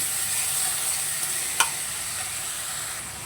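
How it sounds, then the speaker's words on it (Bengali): Onion paste frying in a pan for a pomfret fish curry, giving a steady, even sizzle throughout with one brief louder crackle partway through and no voices. "পেঁয়াজ বাটাটাকেও ভালো করে কষিয়ে নেব"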